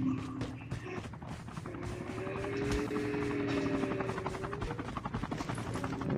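Helicopter in Call of Duty: Mobile, a steady rotor thrum holding at a constant level for several seconds, with brief sharp sounds cutting in over it.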